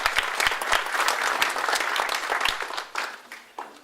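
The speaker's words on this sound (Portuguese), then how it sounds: "Mas uma salva de palmas para ele." An audience at an evening talk on motivation, financial balance and investments gives a short, lively round of applause that quickly tapers to a few scattered claps.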